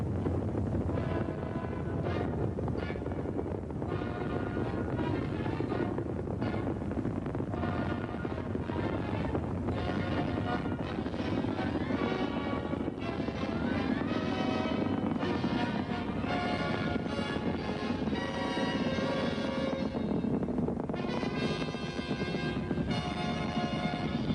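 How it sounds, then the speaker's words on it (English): Saturn V rocket engines at the Apollo 11 liftoff from Launch Complex 39, a steady, loud, broad roar with no voices. "Engine running. Liftoff. We have a liftoff."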